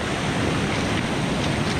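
Sea waves wash onto the shore at Lazarevskoye, Sochi, at the end of winter, a steady broadband rush of surf mixed with wind noise, close and continuous, with no voices.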